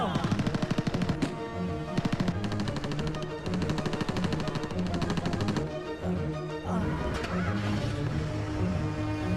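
Bursts of machine-gun fire from a war scene in the Bangladeshi film Amar Bondhu Rashed, loud rapid volleys that repeat across the clip and mix with a dense dramatic score.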